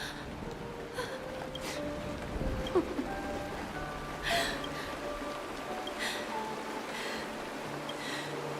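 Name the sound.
rain falling, from a video game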